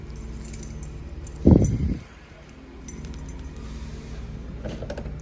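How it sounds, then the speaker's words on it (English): A ring of keys jangles loudly in one short burst while someone opens the trunk of a 1979 Pontiac Trans Am, followed by a fainter metallic click and quiet handling noise. "One of the keys opens it."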